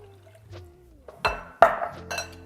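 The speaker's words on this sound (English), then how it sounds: "And now we come with our vinegar." Vinegar is poured for a sweet and sour chicken sauce, heard as a short, close liquid pour with a glassy clink, preceded by faint background hum and no speech.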